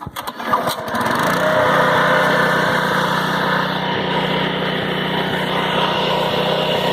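A Honda HR215 lawn mower engine runs warm at a fast throttle setting, a loud, steady close-up drone that holds an even pitch after a brief burst of clatter at the start, with no talk.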